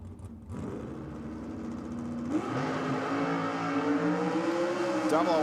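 Ford Cortina drag car at Sydney Dragway, its engine roaring loudly and continuously as it launches and pulls down the strip, with crowd and track noise mixed underneath.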